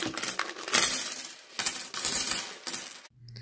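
Coins pour out of an old childhood piggy bank, a loud close metallic cascade of clinking and jingling in several bursts before falling quiet.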